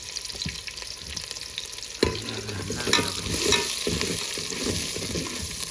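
Onions and chillies frying in a pan give a steady crackling sizzle, with stirring scrapes and a sharper burst partway through, close and continuous with no talking.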